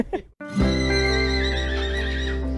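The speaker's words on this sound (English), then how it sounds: "This miniature horse bit off more than he could chew as a backyard pet." A backyard pet miniature horse lets out a loud, close whinny lasting about two seconds, with a wavering pitch that slowly fades, after a short rustle and a brief pause.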